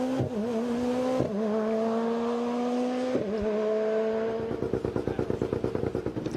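A Peugeot 207 rally car races along a San Remo rally stage, its engine loud and close as it holds steady revs through gear changes, then breaks into a rapid pulsing rasp near the end.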